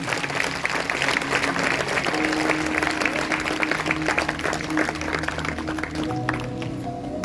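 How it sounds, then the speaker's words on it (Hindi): Loud, sustained applause from a church congregation during a Hindi Sunday service, steady clapping with crowd noise throughout, voices and tones mixing in underneath. "जोरदार तालियां बजाएंगे।"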